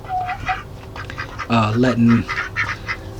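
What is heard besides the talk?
ducks quacking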